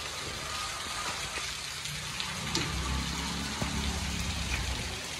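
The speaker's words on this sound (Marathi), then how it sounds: "एवढा जोरात पाऊस पडलाय" Heavy rain hisses steadily and evenly throughout, a dense continuous downpour with a faint low rumble underneath.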